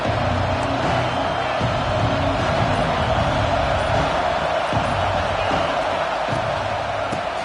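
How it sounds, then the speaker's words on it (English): Dense, steady crowd roar fills a college football stadium before a TCU Horned Frogs play, a broad continuous wash of voices with a few louder whoops and thumps rising out of it. "This crowd ready to make its presence known."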